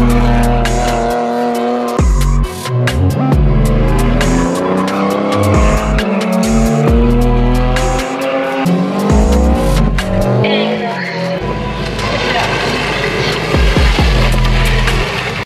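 Cars at a car meet, loud engines revving with a rising and falling pitch and tires squealing in sharp bursts, continuous and close throughout with no talking.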